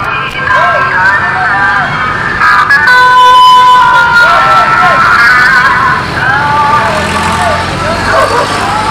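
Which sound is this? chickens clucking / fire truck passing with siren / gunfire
fire truck passing with siren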